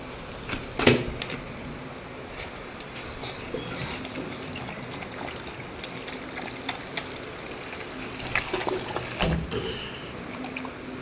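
Water poured out during play at home, trickling and splashing softly in a steady stream, with a few sharper clacks and thumps near the start and end, no voices heard.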